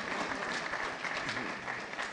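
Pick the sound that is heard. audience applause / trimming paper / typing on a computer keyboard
audience applause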